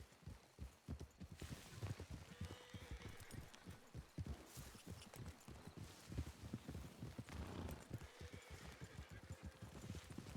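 A horse's hooves clip-clop in a steady walking rhythm in a video game, the hoofbeats close and continuous throughout, with no voices over them.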